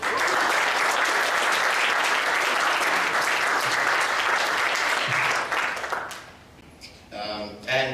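Loud, sustained audience applause honoring school music staff at a concert, a dense wash of clapping for about six seconds before fading to scattered claps and brief voices.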